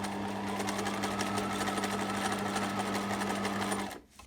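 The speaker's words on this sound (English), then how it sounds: "I'm ready to quilt back in the opposite direction" Sewing machine quilting lines across fabric for a two-zip pouch: steady, close whirring hum with rapid needle clatter for nearly four seconds, then it stops abruptly.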